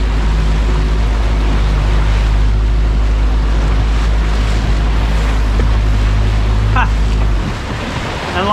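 A fishing boat motors along Sydney Harbour at about 4 to 5 knots, its steady engine drone loud and constant under wind and water noise before easing off near the end.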